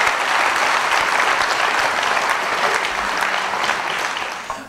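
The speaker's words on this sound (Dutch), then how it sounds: "En graag ook een heel groot applaus voor de Dijkgraaf, de burgemeesters" An audience at a political café event in the Netherlands gives steady, full applause for a dike reeve and mayors, a dense wash of clapping that holds evenly for several seconds and tapers slightly at the end.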